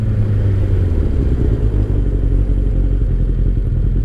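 A 2003 Kawasaki ZR7S motorcycle idles low on a cold start, giving a steady, loud, close-up rumbling engine note with uneven chugging pulses throughout.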